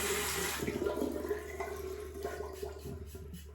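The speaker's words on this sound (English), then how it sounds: "just rinse my hands." Running water at a sink while hands are rinsed of body soap, a continuous close splashing flow that slowly softens.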